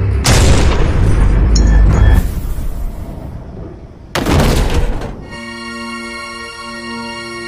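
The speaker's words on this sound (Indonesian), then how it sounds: "Pertempuran antara dua sniper ini pun terjadi" Sniper fire in a film battle between two snipers: heavy booming shots and rumbling blasts come in two loud bursts, then give way to a sustained tonal music-like drone.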